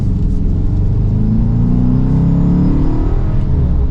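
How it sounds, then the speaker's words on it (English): A 2023 Dodge Charger R/T Daytona with an eight-speed automatic accelerates while driving, a deep engine rumble climbing steadily in pitch under constant road and cabin noise, heard from inside the car. "It's a very quick revving engine"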